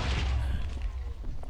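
Weapon fired in a Minecraft FTB modpack, a single deep booming shot with a heavy low thump right at the start, decaying quickly into a faint rumble.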